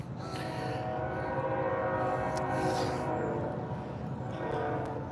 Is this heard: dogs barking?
no